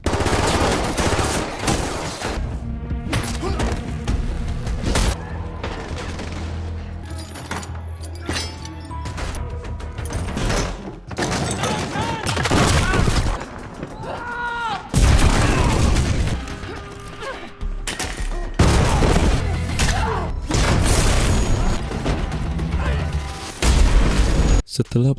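Bomb blasts and gunfire from a brutal action film about a vengeful ballerina fighting sect soldiers in a shop, with dense, continuous booms, bursts of shots and crashing debris, loud throughout with a musical score underneath.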